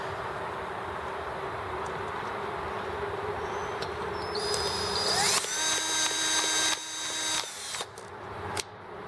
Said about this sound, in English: If I turn my drill to high speed, that will help spin faster.